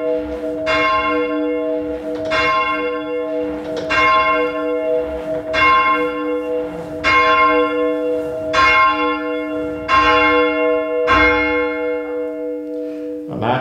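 Church bells at Yatesbury in Wiltshire ring in a steady sequence, about eight strong strikes spaced roughly one and a half seconds apart, each with a long humming hum that carries under the next, loud and close.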